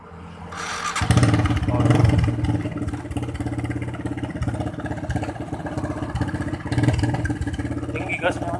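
A Honda Supra X 125D motorcycle with a leaking exhaust idles and revs, its engine note rising near the start and again late, with a raspy, rattling edge throughout. A few words of talk sit under it.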